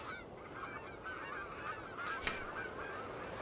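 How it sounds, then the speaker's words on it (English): Noisy flocks of seabirds nesting along the Alaskan coast cry and honk continuously, a dense, fairly faint chorus of overlapping calls with no single bird standing out. "Above, noisy flocks of seabirds cry."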